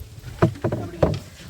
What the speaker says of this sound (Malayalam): അങ്ങനെ വള്ളം നമ്മൾ അടുപ്പിക്കുകയാണ്. അങ്ങനെ എസ്പെർ ഡ്രൈവർ കം ആഗ്രഹമായിട്ട് അദ്ദേഹം തുഴഞ്ഞത്.